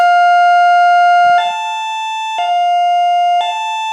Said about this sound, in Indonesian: Alarmnya oke, jadi begitu alarmnya kayak begini ya men ya.